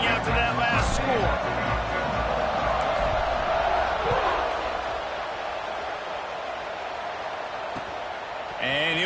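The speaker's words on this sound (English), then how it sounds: "this crowd is buzzing after that last score" Football stadium crowd at an NCAA Michigan game buzzing after a score and extra point, a dense, loud, continuous roar of many voices filling the whole stretch with scattered shouts on top.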